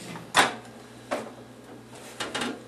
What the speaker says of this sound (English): Now, you open the door.